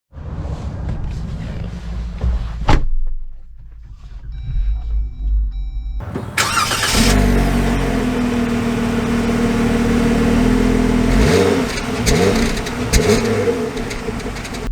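A 2023 Jeep Wrangler High Altitude turns over after a few quiet cabin clicks, its engine catching abruptly and settling into a loud, close idle rumble with a couple of brief rev swells.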